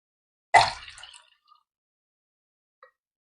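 Water is poured into sorghum flour to make dosa batter: a single short splash that fades within a second, then a faint drip, alone in a quiet room.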